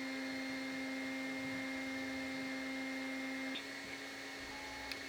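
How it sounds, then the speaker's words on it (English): A household vacuum cleaner runs steadily in the house, a constant droning whine with a mechanical hum that drops slightly in pitch near the end, heard alone without talk. "You are vacuuming and I am trying to film."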